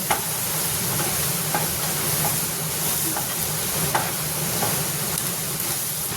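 Chopped onion frying in a pan on a home stove, giving a steady close sizzle with soft stirring scrapes throughout, no talking.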